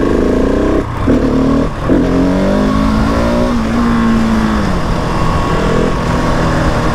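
A 2020 Husqvarna 701 SM motorcycle fitted with a fuel dongle revs hard in third gear for a wheelie, its loud, close engine note climbing, dipping briefly at shifts, then rising steadily again.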